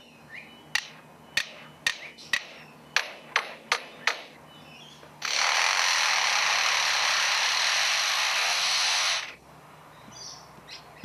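Superb lyrebird in captivity imitating construction sounds: a series of about nine evenly spaced, sharp hammer-like knocks, then a loud sustained harsh buzz like a power tool lasting several seconds, all close and clear.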